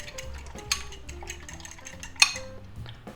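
Eggs and spinach leaves being beaten in a bowl for French toast, soft clinks and scrapes of utensil against dish with a couple of sharper taps, close and fairly quiet.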